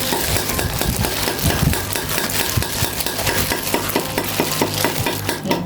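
Northern Thai buffalo larb being tossed and mixed with spices by hand, a dense run of wet clicking, scraping and clattering strokes against the bowl, close and continuous with no talk.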